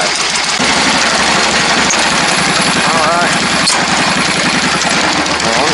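Engine of a homemade belt-driven machine idling loudly and steadily as it warms up, a continuous close rumble with a voice faintly heard over it.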